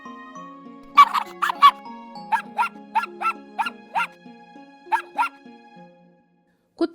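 An animated puppy in a Hindi village folk tale barks in a string of short, high, cartoonish yips. They come in quick bursts and are spaced irregularly over light background music.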